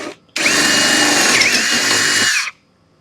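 A power drill with a 10.9 millimeter bit runs loud and close in one steady whine for about two seconds, then stops.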